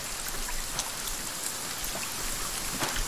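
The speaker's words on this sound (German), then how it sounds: "Es regnet ziemlich laut." Steady rain falls in the survival video game The Forest, a dense, even hiss of drops heard alone with no voices.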